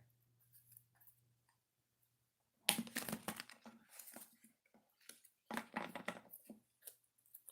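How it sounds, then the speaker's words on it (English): Tarot cards being shuffled by hand, a quiet pause and then bursts of soft riffling and papery flicks in uneven clusters, fairly close and alone without talk. "Let's do some shuffling"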